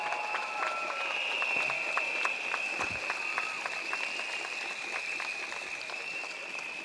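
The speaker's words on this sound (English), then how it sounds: "Give a big round of applause to Dr. Janel" A crowd at an outdoor election rally in Punggol claps in a steady, continuous patter over a steady background tone, moderately loud and sustained throughout, with some voices in the mix.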